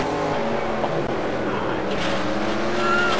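Race car in the NR2003 stock car racing game at Bristol, engine roaring loud and steady throughout with a brief scraping impact as it hits the wall; a voice speaks faintly underneath.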